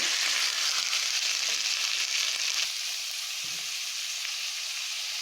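Pointed gourd curry sautés in a pan with a little water added, a loud close sizzle that hisses strongly at first and then settles to a softer, steady fry, with a few faint stirring knocks.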